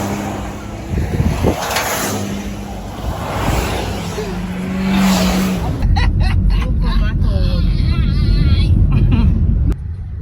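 Car driving through traffic in Jamaica near Flatbridge, a steady close road and engine rumble throughout with a louder, busier stretch in the second half as other vehicles pass, with some voices underneath.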